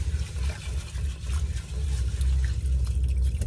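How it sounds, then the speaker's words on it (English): Water running and sloshing while something is rinsed like rice in a van, a close continuous trickle and splash with a low rumble underneath. "Just kind of rinse them like you would rinse rice"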